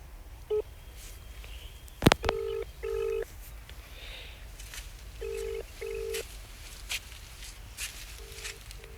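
A phone call is dialed with a string of short electronic beeps in bursts, then the ringback tone sounds, faint and close, in a quiet room with slight rustling and no talk.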